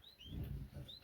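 Small Moluccan mannikins in an aviary birdshed give a few faint, high, thin chirps at the start and end, set over a low background murmur.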